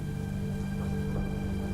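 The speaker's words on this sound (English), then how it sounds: "The rain was coming down in sheets" Heavy rain falls in a dense, constant hiss that holds steady at close range, with a low steady hum running beneath it and no breaks.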